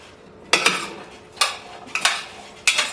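Seasoned roasted chickpeas are stirred in a dish with a utensil, giving four or five sharp, close clinks and rattles separated by short pauses of quiet.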